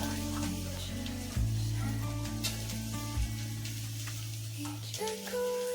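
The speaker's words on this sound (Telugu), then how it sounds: "వేసుకొని కొద్దిగా ఫ్రై చేసుకోవాలి" Sweet corn kernels and carrot pieces fry in a pan for a coconut milk biryani, a soft, quiet sizzle running beneath louder background music throughout.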